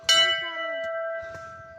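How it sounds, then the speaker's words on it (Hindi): A metal temple bell at a Mahakal temple is struck once, ringing loudly and then sustaining a long, bright tone, with a faint second tap before it fades. "और ये घंटी बजाना तो"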